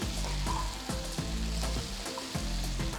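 Potato pieces with salt, turmeric and chopped tomatoes stirred in a hot pan for aloo palak sabzi; a steady close sizzle broken by repeated spatula strokes roughly every half second, no voices.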